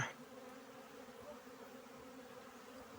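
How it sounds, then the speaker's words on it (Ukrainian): A steady, dense buzzing hum of many bees flying close by, continuous and unbroken with no voices. "Зараз бджілка просто облітується на цьому."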